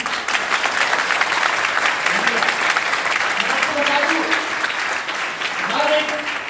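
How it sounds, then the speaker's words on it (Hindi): Sustained applause from a large crowd fills an indoor hall during an awards ceremony, steady and loud throughout, with voices faintly audible underneath. "इस हाल में तालियों की गूंज होनी चाहिए"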